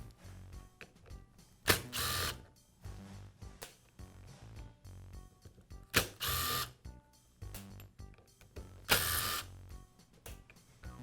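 Makita angle grinder being taken apart by hand, the spindle housing coming off the gearbox housing: three bursts of quick ratcheting screwdriver clicks, spaced a few seconds apart, with quieter handling and tool taps in between.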